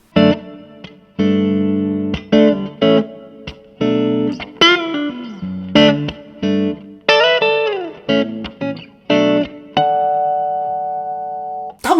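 Clean electric guitar played through a Limetone Audio moonlight reverb pedal, a mix of plucked chords and single notes with a subtle, light reverb tail, played alone and up close.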